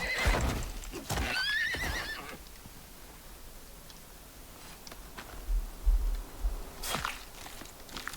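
A horse whinnies loudly near the start of this survival video game scene, and a few scattered hoof clops and footsteps follow over a quiet outdoor ambience.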